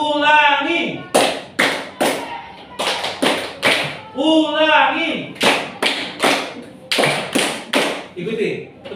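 Classroom students clapping hands together in rhythmic groups, sharp claps in bursts of two and three separated by brief pauses, with a teacher's voice speaking between the patterns.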